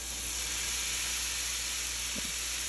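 Washed sausage sizzling in a hot pan, a steady, loud broadband hiss of frying that fills the whole moment, with a brief soft knock near the end.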